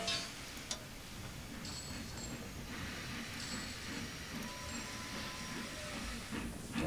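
A slow-moving train in the video game Sid Meier's Railroads gives off a steady, low rumbling hiss with faint ticking clicks across the whole stretch, moderately quiet and free of speech.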